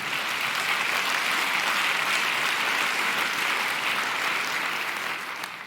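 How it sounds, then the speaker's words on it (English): A large audience at the Swiss Economic Forum 2021 applauds loudly and continuously, the clapping holding steady before tapering slightly at the end. "Give yourselves a round of applause."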